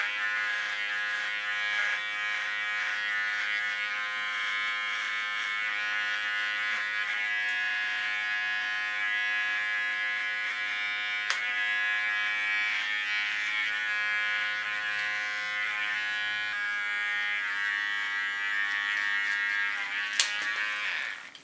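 An electric hair clipper in comb position runs in a steady high buzz for about twenty seconds while cutting a punk hairstyle, with faint brief clicks and no talking.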